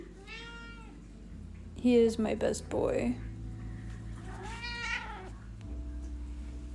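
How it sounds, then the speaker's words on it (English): A pet cat meows several times close by in a home kitchen, short tonal cries interspersed with a person speaking, over a low steady appliance hum. "It's a kitty!"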